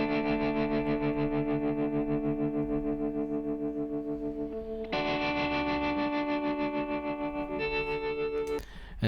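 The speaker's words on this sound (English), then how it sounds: "Then we also have this really cool tremolo sound." Electric guitar chords with a tremolo effect pulsing the volume in a fast, regular throb, sustained and sounding alone, shifting to a higher chord midway and ending with a brief scrape.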